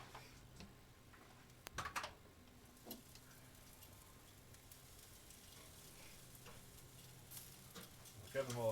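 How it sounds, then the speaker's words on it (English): Chicken wings sizzle faintly on a barbecue grill in a quiet, soft crackle, with a few sharp clicks and knocks scattered through it. "I can hear these wings sizzling"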